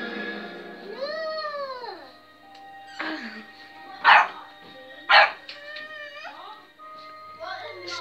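A dog gives two sharp barks between drawn-out high whines and cries, close and fairly loud, with quiet gaps between the calls.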